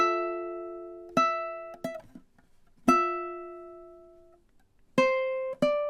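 Slow ukulele melody from measure 12 of a song: five separate plucked notes with gaps between them, each ringing out and decaying, played alone without talk.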